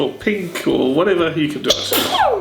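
A person sneezes once at close range, loud and sudden, while someone keeps talking around it.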